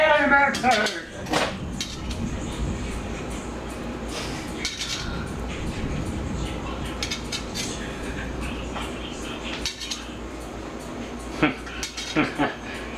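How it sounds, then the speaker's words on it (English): Metal tongs clink and rattle among kitchen utensils and pans while making bacon spaghetti, with scattered sharp clanks over a steady background hum and some talk. "I will retrieve these tongs"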